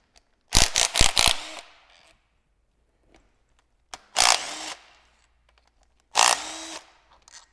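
Three bursts of a power tool removing timing cover bolts on a Toyota 1FZ-FE engine during a timing chain job: a quick stuttering series of whirring pulses, then two longer sustained whirs, close and loud with quiet gaps between.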